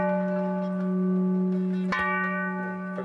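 Traditional Rishtan ceramic pottery from the Fergana Valley, Uzbekistan, rings like a bell, a sustained clear tone that is struck again near the middle and fades slowly, with no talk.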